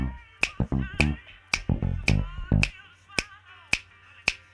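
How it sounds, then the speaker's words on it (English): Crisp, evenly spaced finger snaps on a soul music recording, ringing out alone at first, then continuing in a steady rhythm after a brief stretch of deep sung or spoken voice. "it goes back and forth between guitar and finger snaps on that same track"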